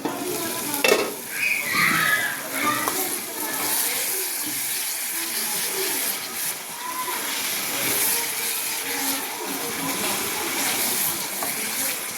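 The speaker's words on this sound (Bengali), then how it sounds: "কষানো হোক, ঢেকে ঢেকে কষাবো" Kosha being stirred and fried in a covered pan at an outdoor picnic cook-up, a steady broadband sizzle with scraping stirs throughout and faint voices in the background.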